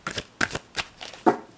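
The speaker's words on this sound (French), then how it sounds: "On mélange et je coupe" Lotus oracle cards being shuffled by hand, several short crisp riffling bursts in quick succession, close and fairly quiet with no talking.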